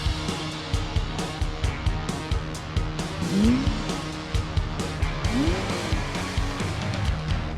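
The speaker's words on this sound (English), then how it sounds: "that is a nice Testarossa" A 1990 Ferrari Testarossa sports car pulls away, its engine throbbing in quick pulses with rising revs and short tire-squeal-like sweeps, loud and close throughout.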